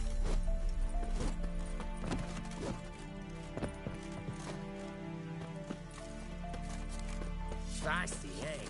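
Horse hooves clip-clop in a steady rhythm through The Witcher 3: Wild Hunt, carried along under a continuous game music bed with a voice speaking over it.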